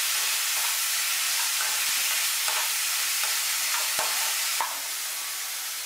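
Coarsely ground cauliflower paste being stirred in a hot pan, with a steady close sizzling hiss throughout and a few soft scrape-like stirring ticks.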